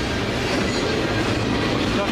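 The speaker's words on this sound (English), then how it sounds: "This train is westbound." A westbound Union Pacific freight train rolls past in Maricopa, Arizona, a loud continuous rumble and roar from close by with no clear breaks.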